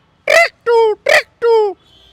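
A man imitates the call of a lapwing (titeeri) with his voice, giving four loud, shrill, pitched syllables in two quick pairs, close up, with a brief pause before each pair.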